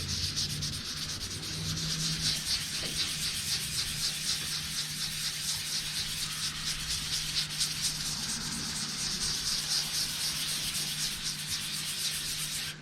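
Continuous close-up scratchy rasp of sandpaper rubbed back and forth over wood by hand, with a faint low hum underneath.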